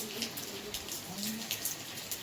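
Light rain pattering steadily outdoors during the first monsoon rain, faint and even with scattered droplet taps and a couple of soft tonal background sounds.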